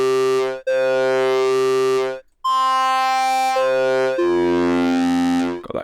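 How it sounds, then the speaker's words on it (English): XFM synthesizer playing an oscillator sync waveform preset shaped by an envelope: bright, buzzy sustained tones with sweeping, shifting harmonics, several held notes with brief gaps, loud and alone. "Got that classic kind of sync sound"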